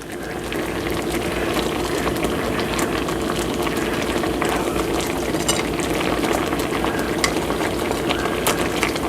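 Hamburger patties simmering in a thickened onion mushroom gravy, a steady, dense bubbling and sizzling that holds evenly at close range throughout, with no talking.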